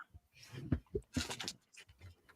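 A small dog pants and snuffles nearby in short, irregular breathy bursts with a few faint whimpers, fairly quiet against a calm indoor background.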